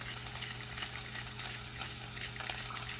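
Steak sears in a hot pan, a steady, faint sizzle and crackle that runs continuously at a moderate distance with no talking.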